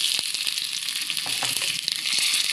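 Mustard seeds, fennel seeds and dried red chillies sizzle and fry steadily in hot oil for a village-style vegetable sambal, a continuous bright crackle with scattered small pops, close and alone.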